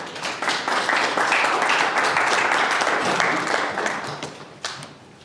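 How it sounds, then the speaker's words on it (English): Sustained audience applause at a diplomatic conference, dense and steady clapping from a large room for about four seconds before it tapers off toward the end. "Another round of applause"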